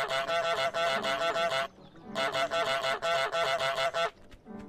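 Goose honks from Untitled Goose Game, loud and close, in two long runs of rapid repeated honking separated by a short pause, with a few stray honks trailing at the end.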